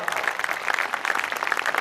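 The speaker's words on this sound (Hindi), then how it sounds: "ताकि साल भर एक बार तालियां बजा दें" Applause from a poetry festival audience in Ambikapur, a dense, steady patter of many hands clapping at moderate distance, filling the whole brief stretch without a break.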